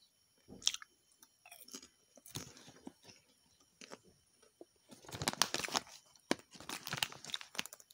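Close, crunchy chewing of caramel popcorn flavoured with coco pandan, irregular bursts of crackly bites and mouth sounds separated by short pauses, getting busier toward the end, with no talking.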